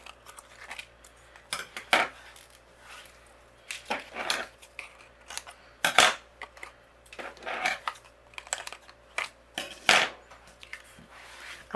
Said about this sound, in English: we're going to use scissors